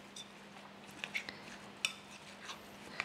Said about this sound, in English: I'm going to mix everything together here